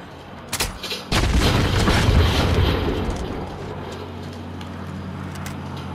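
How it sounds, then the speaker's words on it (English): A claymore mine going off in a video game, with a couple of sharp cracks followed by a heavy, booming blast that rumbles and slowly decays into a lingering low roar. "if you hear any explosions from my mines, go and check in case there was more than one coming"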